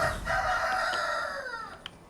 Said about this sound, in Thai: ไก่เลวเอ้ย มึง ตั้งนานไม่ร้อง มันร้องตอนเต้นเนี่ย